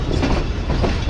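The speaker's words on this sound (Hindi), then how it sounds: "ये ट्रेन चल रही है।" A Shaheen Passenger (Allama Iqbal Express) train on the line toward Lahore rumbles loudly and steadily on the rails, a dense, close, continuous roar with no voices.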